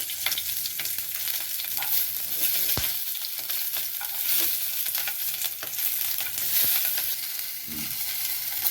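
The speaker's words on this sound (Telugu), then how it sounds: "పచ్చిమిరపకాయలు వేయించుకుందాము. ఒక స్పూన్ ఆయిల్ వేసుకొని పచ్చిమిరపకాయలు" Green chillies frying in a spoonful of oil in a home kitchen, with a steady close crackle and sizzle, occasional sharp pops and stirring scrapes throughout.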